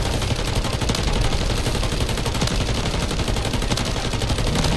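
Rapid, continuous automatic gunfire from the MW3 Zombies video game, a dense unbroken volley of shots filling the whole stretch at steady loudness.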